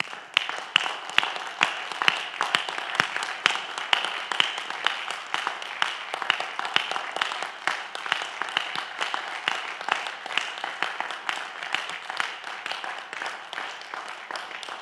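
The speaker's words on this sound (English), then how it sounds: "stand and give them a round of applause." A church congregation at Union Bethel AME in Brandywine, Maryland applauds service members and veterans, with sustained, crisp clapping that stays even and fairly close for the full stretch, individual hand claps standing out through the crowd sound.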